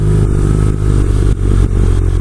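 BMW R nineT Cafe Racer boxer-engine motorcycle running on the road, a steady loud low rumble from close by with brief dips and surges in the throttle and no talking.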